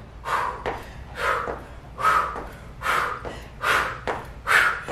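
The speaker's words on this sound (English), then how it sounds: "Do you hear me breathing?" Heavy, rhythmic breathing during a low-impact, high-intensity cardio workout at home: close, forceful breaths in and out, about six in five seconds, with no talking.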